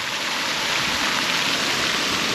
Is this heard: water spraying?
yes